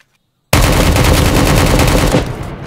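An AK rifle in Project Delta erupts into a loud, rapid burst of automatic fire, a continuous rattling stream of shots lasting about two seconds after a brief silence, with no talk over it.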